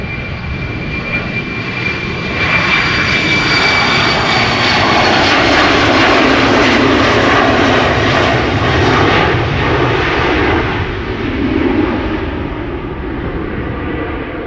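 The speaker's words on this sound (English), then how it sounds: "KLM flight 987 outbound London City." A KLM jet departing Schiphol Airport bound for London City roars loudly and steadily close by, with its engine noise swelling toward the middle and then easing slightly as it climbs away.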